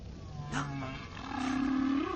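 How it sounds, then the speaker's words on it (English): Underwater recording of whale calls: low, drawn-out moans and rising tonal cries with faint higher squeaks, moderately loud over a steady wash of ocean noise, no talking. "They clearly originate from a whale."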